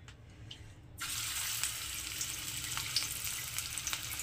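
Pea fritter batter drops into hot oil and starts sizzling, a quiet pause giving way to a steady, close crackling fry.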